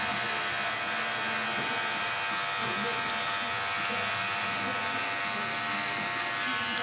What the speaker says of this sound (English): I opened the clipper all the way